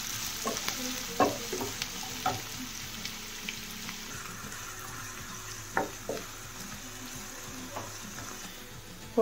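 Onion frying in oil in a kadhai, a close, steady sizzle broken by repeated clinks and scrapes of a stirring spoon.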